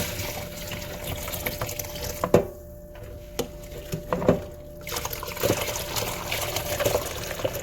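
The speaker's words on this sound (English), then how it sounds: "I'm going to strain the water" Water from a pot poured through a small strainer into a bowl in a kitchen sink while making chicken bog, a steady close splashing trickle with a few louder clinks and gurgles.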